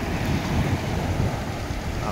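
Sea waves wash onto the shore in a loud, continuous rush of surf with wind buffeting the microphone. A faint voice may sit underneath.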